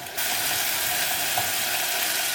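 Green coriander and chilli masala paste frying in a pan with salt, a steady, even sizzle that starts abruptly and holds close and loud throughout.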